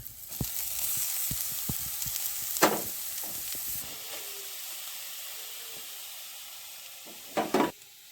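Chillies, grated carrot and peas frying in a pan, giving a steady close sizzle with scattered stirring clicks and a couple of louder bursts of spatter as ingredients drop into the hot oil.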